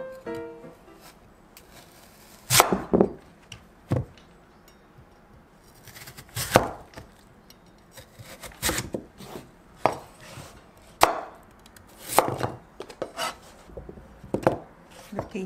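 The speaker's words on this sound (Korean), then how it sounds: "이렇게 인절미 모양으로 이렇게 썰어 줄게요." A knife chops radish into small injeolmi-shaped pieces on a cutting board, giving a series of sharp, irregularly spaced thuds and cuts, close and fairly loud, with no talking.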